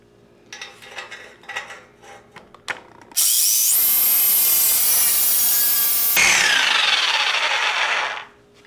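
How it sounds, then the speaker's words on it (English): A few scattered taps and knocks, then a power saw cuts loudly and continuously through a Cadillac 472/500 exhaust pipe beside a weld with a high shriek, its pitch shifting partway, before winding down. "We're gonna cut it on this side of the weld."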